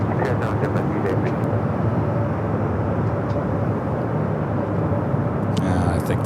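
A 13-year-old Boeing 737-800 at Los Angeles International Airport roars with a loud, steady, broadband jet engine rumble, with a brief radio-like chirp near the end.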